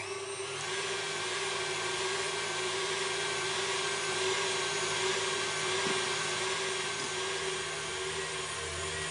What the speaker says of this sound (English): What I need to do is whisk these whites until they're sort of well and frothy